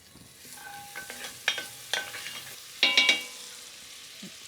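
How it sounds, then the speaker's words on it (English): Mushrooms pan-roasting as a couple tablespoons of butter go into the pan over slightly lowered heat, a steady close sizzle with bursts of louder spitting and crackling as the butter melts in. "So I lowered the heat just a tad, and I'm gonna add butter to this pan."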